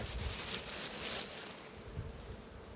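Honey bees buzz steadily through an autumn beehive inspection, a soft, close, continuous drone with faint rustling and no voices.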